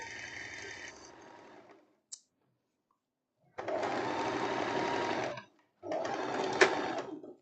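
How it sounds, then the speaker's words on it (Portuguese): A sewing machine stitching elastic-waist trousers in several bursts: a steady run that stops, a brief tap, then two longer loud runs of fast rhythmic needle chatter split by a short pause, close by, with no talking. "agora a gente vai costurar do outro lado"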